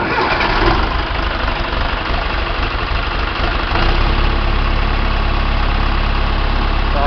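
Cold start of a John Deere 2030 tractor engine after fuel line and filter base repairs, catching after brief cranking and settling into a loud, steady low idle rumble close by.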